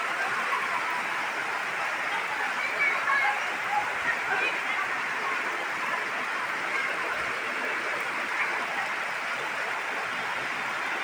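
Heavy monsoon rain pours steadily in a continuous broadband hiss with no clear breaks, heard close and loud throughout during the Sawan rainy season.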